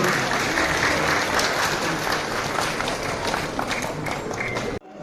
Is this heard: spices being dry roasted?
no